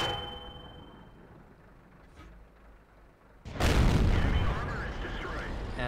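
A loud, abrupt impact strikes a KV-3 tank from behind in World of Tanks, a heavy shot followed by a sustained roar of engine and battle noise.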